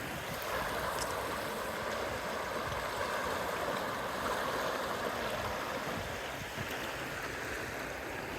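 River rapids rush beneath a fishing kayak during a river float, making a steady, broad roar of churning water that stays loud and even throughout.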